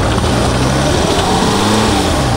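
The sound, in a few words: Land Rover driving off-road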